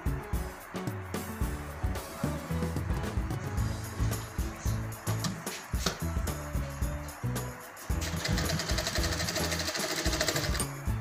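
A sewing machine stitches folded fabric for a handmade flower, whirring in rapid continuous runs with brief pauses and restarts, loud and close, with no talking.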